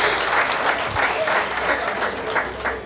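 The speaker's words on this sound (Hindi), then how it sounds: "एक बार जोरदार तालियां दीपाली जैन जिया के नाम" An audience at a Hindi kavi sammelan poetry recital gives loud, sustained applause, a dense wash of many hands clapping close and steady, with a few stronger claps standing out and faint crowd noise beneath.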